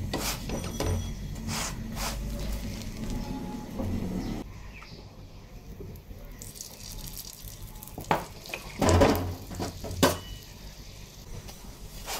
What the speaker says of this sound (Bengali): চেপে চেপে ভাজতে হবে।